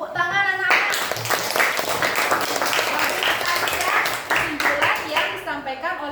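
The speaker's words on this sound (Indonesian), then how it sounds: "Ya, tepuk tangan anak-anak." A class of elementary schoolchildren claps hands in a classroom, a burst of quick, uneven clapping from many small hands, with a child's and an adult's voices heard speaking before and after it.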